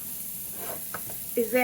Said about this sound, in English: as you can hear it sizzling in the background